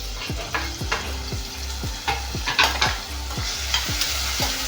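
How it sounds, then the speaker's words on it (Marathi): Onion and garlic sautéing in a pan sizzle steadily while a spoon scrapes and taps in a regular stirring rhythm, a few sharper clinks near the middle. "थोडंसं परतून घेणार आहे कांदा लसूण दोन्ही छान लाल झाले तर आता टमाटर"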